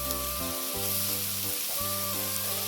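Onions and chopped capsicum sizzle in hot oil as they are stirred in a pan for salsa pasta, a loud, close, continuous frying crackle with brief interruptions as the mixture is moved, over a steady tonal hum.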